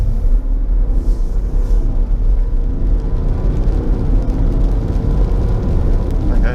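A Jeep Grand Cherokee SUV's engine pulls hard on an open road, a loud continuous low rumble with road and wind roar heard from inside the cabin, no talk.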